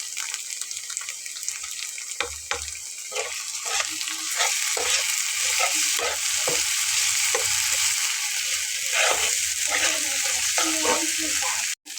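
Onions frying in a pan with a paste of ground ginger, garlic and cumin for a Bengali fish curry, a steady loud sizzle with scraping stirs and occasional clinks throughout, no talking.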